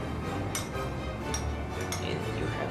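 Milk and vinegar being stirred together in a bowl for homemade buttermilk, a spoon clinking and scraping against the sides in a few bright taps over a steady close background hum.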